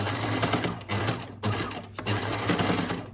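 A sewing machine stitches a scrubs seam, running back and forth to lock the stitching, with steady motor whirr in several bursts separated by brief pauses, close and moderately loud.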